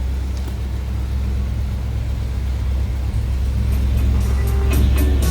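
A numbers-matching 350 V8 in a 1968 Pontiac Firebird convertible with a 4-speed manual runs at a steady, loud low rumble, with the engine note rising slightly toward the end.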